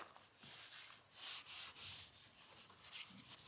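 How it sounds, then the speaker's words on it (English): Cloth wiping a surface on a Hobie Pro Angler 14 kayak with isopropyl alcohol, a series of soft close rubbing swishes in uneven strokes, with no talk. "Supposed to clean this with isopropyl alcohol."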